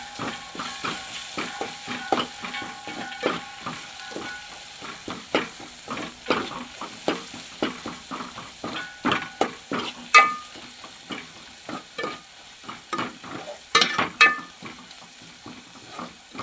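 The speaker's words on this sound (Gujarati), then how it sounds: "આપણે હલાવી નાખીશું આ બધી વસ્તુને" Chili powder and spices fry in oil in a pan while being stirred, giving a close crackling sizzle punctuated by frequent spoon scrapes and clinks against the metal.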